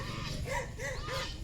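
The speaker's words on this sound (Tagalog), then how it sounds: "May aso din yan." A dog barks in a Philippine yard garden, three or four short yelping barks in quick succession at moderate distance, over a faint background murmur.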